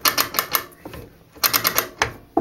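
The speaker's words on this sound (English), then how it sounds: "when you are raising your keel, you should be hearing this clicking" A Catalina 25 sailboat's swing keel winch clicks rapidly while the keel is raised, two close bursts of sharp ratcheting clicks separated by a brief pause.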